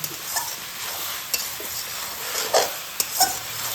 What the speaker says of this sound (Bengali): মশলাটা ভালোভাবে মিশিয়ে নিয়ে আমি একটু ঢাকা দিয়ে রাখবো